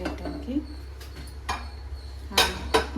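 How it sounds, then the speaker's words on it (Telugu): A metal kadai pan is set down on a kitchen stove to make upma, with several sharp metallic clanks and clinks spread out, the loudest near the end, over a steady background hum. "ఉప్మాకు ఇప్పుడు బాండి పెడుతున్నానండి"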